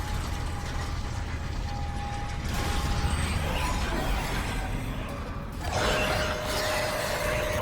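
Elevator machinery in the Dead Space (2023) video game grinds and clanks continuously, with loud mechanical rattling, ratcheting gears and faint tonal whines that shift partway through, with no talking.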